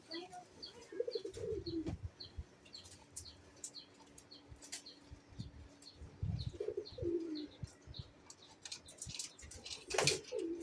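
Pet pigeons in a home coo in low, throaty bursts several times, mixed with close wing flaps and small chirps.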